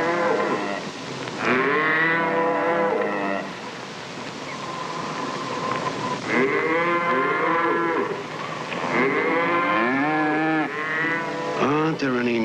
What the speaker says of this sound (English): George Dunn told me about southern cattle auctions